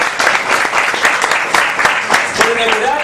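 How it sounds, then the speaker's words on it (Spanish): Loud applause from a crowd at a skeptics' conference lecture, dense clapping that fills the whole moment, with a voice briefly audible near the end. "Así que un gran aplauso para él, felicitaciones."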